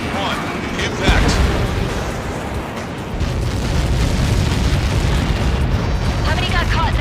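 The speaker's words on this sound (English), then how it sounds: "How many got caught in that explosion?" A massive explosion in the Ace Combat 7 combat flight game, a dense roaring rumble with a sharp hit near the start that swells again and keeps thundering without a break.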